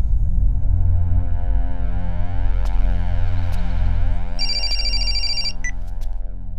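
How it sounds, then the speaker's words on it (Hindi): A telephone rings on a call, a steady electronic ringtone over a heavy low hum with sharp clicks, followed by a brief higher repeating tone near the end. "ठीक बा बेटा, हम सत्यप्रकाश के फोन कर देता नहीं, तू जाए के तैयारी करा।"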